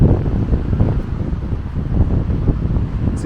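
Strong wind buffeting a microphone on a hike at Hanging Rock State Park, a loud continuous low roar with gusty swells and no talking.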